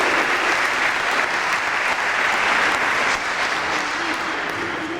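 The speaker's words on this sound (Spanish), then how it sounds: "Un aplauso para don Marcelino Agil Villaverde y su esposa, doña Eva María Burgos Pazos." A crowd at the Samos 2015 gathering applauds an honoured couple, with steady, dense clapping that stays loud from start to finish and has no talk over it.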